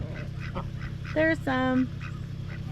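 Ducks on a homestead give two loud, nasal honking quacks close by, one short and one drawn out, over a low steady background hum, while a person speaks briefly.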